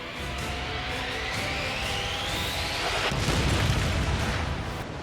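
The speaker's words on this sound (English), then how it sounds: "A shell hits just behind the bridge. The explosion tearing through the wall" Shell explosion aboard a WWI naval warship, a shell striking just behind the bridge: a loud, sustained blast with a roaring, rumbling body that swells again midway and carries on without voices.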